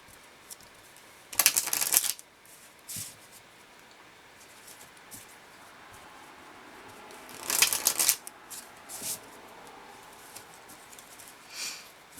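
Two sharp bursts of Lenormand cards riffled close by, with softer taps and card handling scattered between them in an otherwise quiet room.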